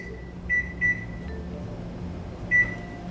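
Kitchen timer being set for a roast salmon one-pan dinner, giving three short bright electronic beeps, two close together and a third after a pause, over a low steady kitchen hum.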